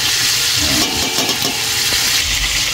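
Laing being stirred in a pan as it fries, giving a dense, loud, continuous sizzle and bubbling with scraping stir noises close by.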